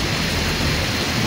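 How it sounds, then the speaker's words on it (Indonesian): Dense, loud rain pours steadily onto a forest during a solo hike, a broad continuous hiss with heavy low rumble and no pauses. "Kirain nggak bakal hujan."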